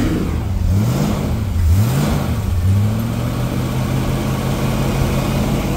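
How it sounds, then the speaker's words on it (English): A 1955 Dodge C-3 truck engine revved several times right after a cold start, loud rising and falling throttle blips before settling back to a steady idle. "I ought to probably rev it up and clear it out just a little"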